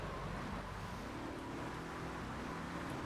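Car engine in the GTA 3 video game, a steady, continuous motor drone with road noise throughout, the vehicle sounding close behind and holding an even pitch without talk.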